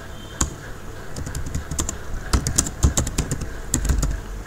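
Keys clatter on a computer keyboard while C code is typed, quick irregular bursts of close, crisp clicks with short pauses between them.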